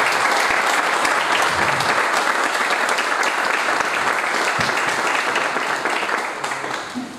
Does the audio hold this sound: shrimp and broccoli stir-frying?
no